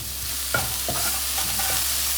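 Tomatoes go into a hot pan with onions and dried coriander, giving a steady loud sizzle with a few scraping stirs of a spoon against the pan, and no talking.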